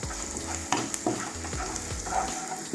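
Crushed garlic and onion fry in a pan for an okra masala curry, a steady close sizzle with a few sharp clinks and scrapes of stirring breaking through, and no voices.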